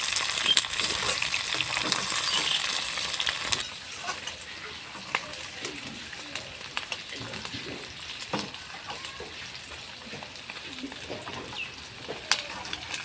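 Onions and capsicum frying in a pan: a louder burst of sizzling at first settles into a quieter, steady crackle dotted with small pops and stirring clicks, with no voices.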